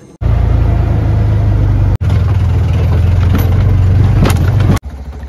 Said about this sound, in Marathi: ही रिक्षा घेऊन आम्ही आलो इथे